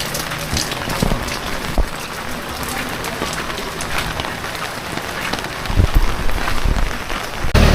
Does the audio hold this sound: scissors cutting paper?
no